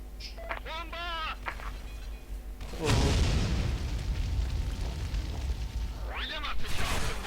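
A bomb blast in the video game Skill Force 2 lands as a loud booming explosion with a long rumbling tail, preceded and followed by excited voices talking.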